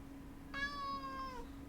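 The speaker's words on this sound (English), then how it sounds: "He's being a cat. You hear that?" A cat lets out a single clear, drawn-out meow lasting nearly a second, moderately quiet and close, over a low steady background hum with no talking.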